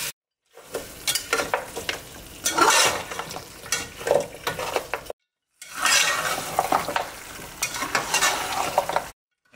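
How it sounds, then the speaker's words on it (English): Beef bones refrying in spices and oil in a pot, loud sizzling with metal stirring scrapes and clatter, in two long bursts separated by short pauses. "I'm refrying the bones in the spices for a few minutes"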